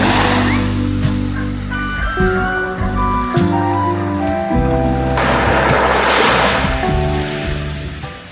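Sea waves washing in on the shore at Osmeña Point Beach Resort in Dasol, Pangasinan, a loud continuous surf roar with wind buffeting the microphone and a low droning tone underneath.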